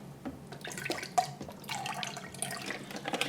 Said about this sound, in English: first put my 15 ounces of coconut water in there.